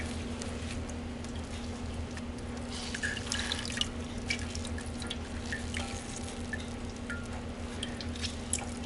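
Water drips and trickles into a kitchen sink while homemade butter is squeezed by hand, soft irregular splashes over a steady low hum, with no talking.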